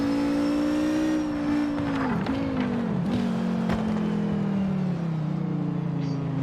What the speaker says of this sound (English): This is the Audi Quattro S1 from the Group B era. The engine sound is unique